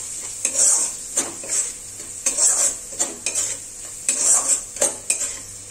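Spice paste with Kashmiri chilli powder, turmeric and sugar frying in a pan for chital fish kalia, a spoon scraping and stirring in repeated strokes over a steady hiss of sizzling, with no voices.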